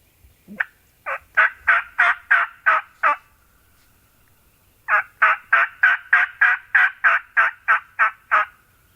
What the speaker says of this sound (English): That was a full gobble.